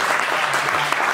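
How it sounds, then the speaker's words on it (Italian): A crowd at an event claps steadily and densely for about a second, and the applause is loud and close. "Applausi."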